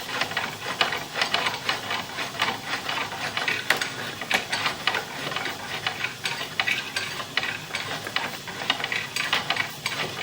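A sewer inspection camera cable is pushed down the main lateral sewer pipe, giving a steady stream of close mechanical clicking, rattling and scraping with irregular ticks and no talking.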